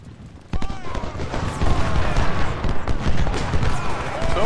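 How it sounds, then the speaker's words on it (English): Gunfire in the Ultimate General Civil War game, a burst of scattered musket shots rolling into a dense, sustained rattle of volleys at mid distance with a soft voice underneath. "Somebody's shooting at somebody."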